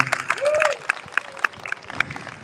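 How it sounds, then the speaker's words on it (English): A crowd at an outdoor Gather For Gaza rally in Hamilton gives scattered applause, separate claps and cheers spread across a couple of seconds, with a voice calling out briefly among them. "Give him some applause for being cooperative."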